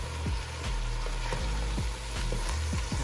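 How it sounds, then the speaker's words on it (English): Steady, close sizzling of garlic frying in a hot pan, with occasional soft pops and scraping stirs throughout. "let that garlic cook for a second or two"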